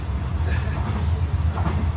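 Inside a passenger train bound for Venice, a continuous low rumble and rattle of the carriage rolls on steadily, with no one speaking.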